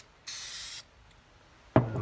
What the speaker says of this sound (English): we will try the first coat on black using our red spray paint